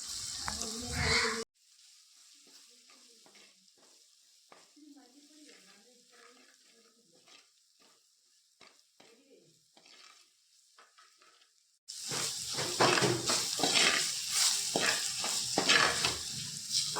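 Masala paste with chili powder and coriander powder for a fish curry sizzles softly while being stirred in a pan, a loud burst at the start and a louder stretch of frying and scraping at the end.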